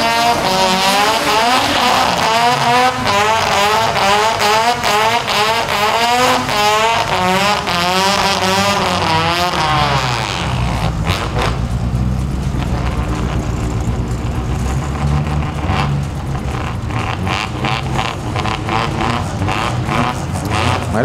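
Toyota MR2 race cars with 3S engines roll into parc fermé after a Super 4 2WD final race. A loud, droning engine note wavers and rises, then drops into a lower, rougher idling rumble close by.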